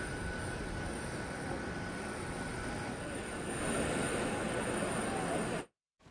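A passenger airplane carrying the Kenya 7s rugby team, after its Singapore 7s win, fills the air with a steady engine roar that swells slightly before cutting off abruptly near the end.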